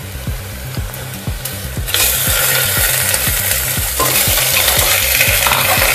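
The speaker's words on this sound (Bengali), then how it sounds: "দিয়ে ভালোভাবে আবার মাটনটা পেঁয়াজের সাথে ফ্রাই করে নেব।" Mutton stir-fries with browned onions in a pan: loud, dense sizzling swells after a quieter start, cut by a regular rhythm of scraping stirring strokes from start to finish.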